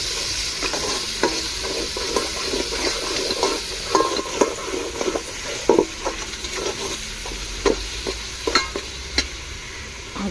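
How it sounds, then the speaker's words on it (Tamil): Ginger and garlic sauté in hot oil in a pan, giving a steady close sizzle broken by repeated scraping and clinking stirs of a spoon against the metal. No one speaks. "நல்லா இஞ்சி பூண்டை வதக்கி விடுவோம்"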